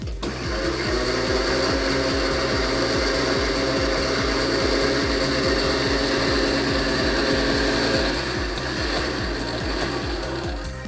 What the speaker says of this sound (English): you can hear the motor running, and you notice I toggled the switch a couple of times there towards the end